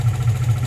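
Steady low idle of a 2003 Infiniti G35 engine running at 550 RPM with misfire and camshaft sensor faults, a close, loud, even rumble with no talk.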